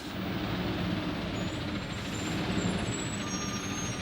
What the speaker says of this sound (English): Just waiting for the trash truck.